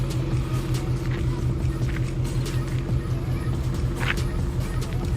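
Ford Mustang driving a rough mountain road through the Musandam Peninsula in Oman, its engine a steady low drone with road rumble, continuous and close throughout, with faint scattered noises above.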